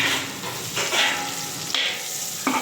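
Beef biryani masala with chilli powder being stirred in a pot for Chennai-style beef biryani, a steady sizzle with a few scraping strokes of the spoon, close and fairly loud with no talk.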